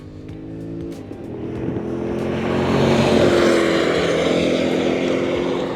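A 2012 Mercedes-Benz SL550 with a V8 engine accelerates hard past the listener, its engine note climbing and swelling to a loud peak before easing slightly as it goes by, with no one talking.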